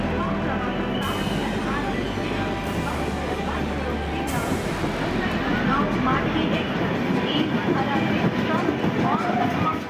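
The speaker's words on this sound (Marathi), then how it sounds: "गणेश भक्तांनी कोकणात जाण्यासाठी दिवा रेल्वे स्टेशनवर गर्दी केली।" Diva railway station, crowded with passengers heading to Konkan, fills with the rumble and clatter of trains and a busy mix of voices, a continuous dense din with low engine hum throughout.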